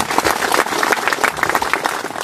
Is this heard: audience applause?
yes